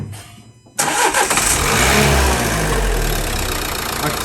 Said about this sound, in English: If you start the engine